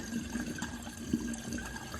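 Water runs and gurgles steadily with a low hollow tone, a continuous close pour at modest volume, as water is poured into the coolant system of a K20-swapped Mazda RX7.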